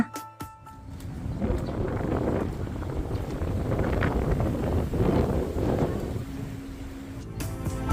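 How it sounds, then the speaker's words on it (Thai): Strong wind buffets the microphone in a steady, rumbling roar with gusting swells, loud and close, no voices, in Kakunodate samurai village, Japan, during cherry blossom season. "ฟังเสียงลมนะคะ"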